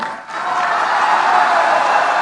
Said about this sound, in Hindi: आपने ताली बजाई, दबा के ताली बजाई।